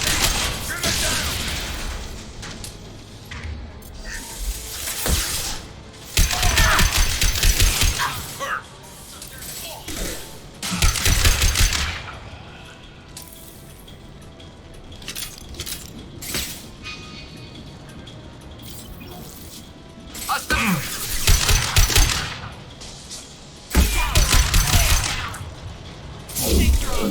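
Bursts of gunfire in the Mass Effect 2 video game, aimed at a loosening fuel tank, come in several loud volleys separated by quieter mechanical clatter and background game noise.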